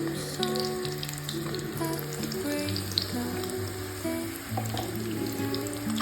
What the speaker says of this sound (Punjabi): ਕਰੇਲੇ ਕੁਝ ਇਦਾਂ ਦੇ ਫਰਾਈ ਹੋਏ ਆ